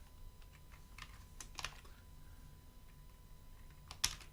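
Quiet, close clicks of a computer keyboard as someone types a short line of program code, the keystrokes coming in small irregular bursts with pauses and a sharper tap near the end.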